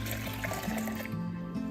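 Earl Grey tea trickles steadily into a container, a soft continuous pour with a gently shifting pitch as it fills.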